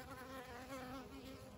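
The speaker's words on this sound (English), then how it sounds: "there will be bees coming back, and there are bees coming back" Honeybees returning to the hive past guard bees at the entrance, a soft continuous buzzing hum of several wings close by, steady and faint.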